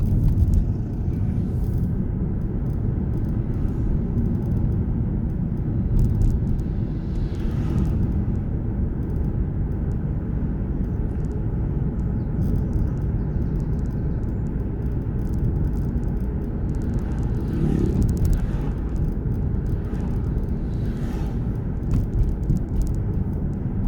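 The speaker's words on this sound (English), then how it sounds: "I'm driving an Audi" Steady low rumble of an Audi cruising along a road, heard from inside the car as continuous engine and tyre noise with faint passing swells.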